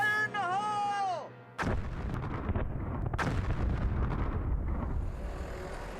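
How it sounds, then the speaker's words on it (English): Small explosive charges blast rock above an Arctic dinosaur fossil bed: after a whistle-like warning tone, a sharp loud detonation hits, followed by rumbling debris and a second crack a moment later, then a lingering outdoor rumble. "begin with a set of relatively small charges. Fire in the hole!"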